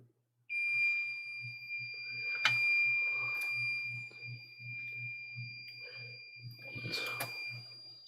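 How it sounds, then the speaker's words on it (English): A steady, piercing electronic beep holds unbroken through a liquid-damaged Nintendo Switch repair, over a low pulsing hum and a few light clicks and clatters. "we're going to make it beep"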